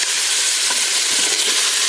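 Food browning in oil inside a Cookeo electric pressure cooker, a steady close sizzling hiss throughout, with a few faint clicks of stirring and no talk.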